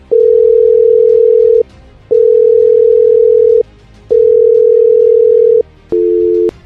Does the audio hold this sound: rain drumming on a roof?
no